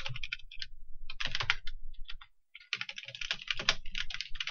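Fast typing on a computer keyboard while playing King's Quest, close-up bursts of rapid key clicks with a brief pause in the middle before the typing resumes.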